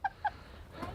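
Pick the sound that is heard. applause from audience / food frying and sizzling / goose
goose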